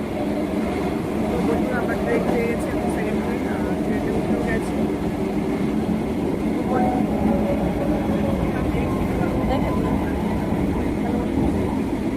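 A train rumbles steadily at a station near Sealdah, a continuous rolling drone with faint clatter, and voices are heard over it.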